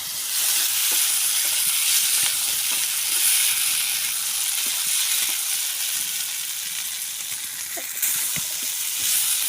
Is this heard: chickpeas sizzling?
yes